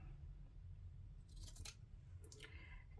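Scissors make two quick, quiet snips through paper for a junk journal over a low background hum, close by and without talking.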